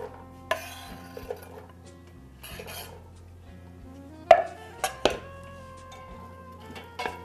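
Chopped celery dropped into olive oil in a large saucepan, heard as a few sharp clinks and knocks of utensils and pan in a quiet kitchen, with faint sizzling between the impacts.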